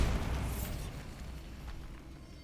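A Bombarda blasting spell in a Harry Potter video game goes off as a single deep, muffled boom that decays into a soft rumbling hiss, fairly quiet overall.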